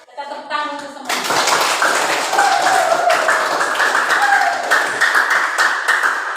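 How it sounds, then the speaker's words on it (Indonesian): A class of students claps together at the close of a lesson, a steady dense patter of many hands that starts after a brief voice and carries on for several seconds, with occasional speech over it. "Kita tepuk tangan untuk semua."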